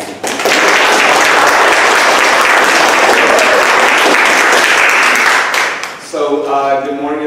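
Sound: applause for the party chair

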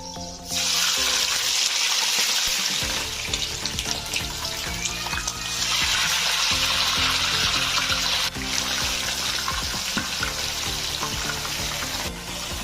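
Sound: chicken frying in oil

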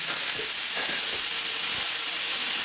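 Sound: burger frying in a pan, being flipped

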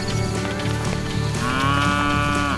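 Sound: cattle calves mooing while being driven

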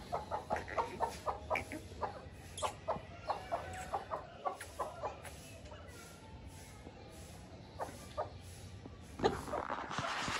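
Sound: rooster clucking

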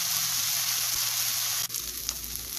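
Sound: stirring coconut and tomato frying for fish chammanthi

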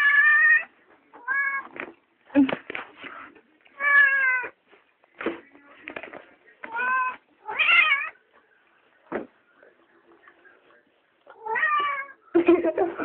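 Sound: cat meowing

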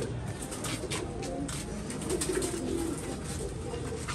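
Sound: pigeons cooing

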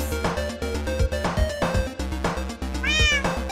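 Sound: person imitating a cat meow

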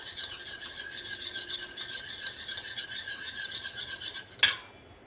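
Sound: whisking curd with salt

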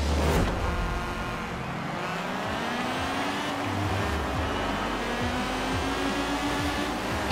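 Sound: race car engine in Forza Horizon 4 video game

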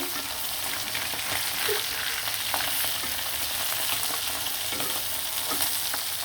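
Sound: frying hilsa fish pieces

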